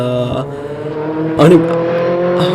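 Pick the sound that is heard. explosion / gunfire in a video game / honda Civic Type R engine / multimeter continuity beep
honda Civic Type R engine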